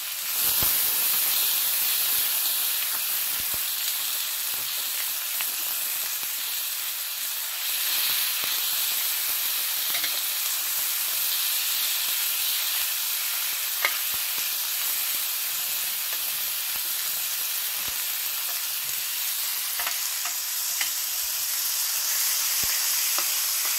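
Tomatoes and skinned chorizo for paella cook slowly in a pan over a wood fire, giving a steady close sizzle and hiss with light stirring clicks throughout, and no voices.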